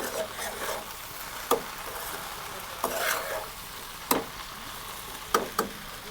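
Steady sizzle of okra frying in a pan, broken by several sharp scrapes and clicks of a utensil stirring, close by with no talking.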